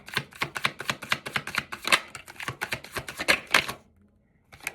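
Rapid crisp flicks and slaps of tarot cards being shuffled, a quick irregular patter that stops abruptly near the end.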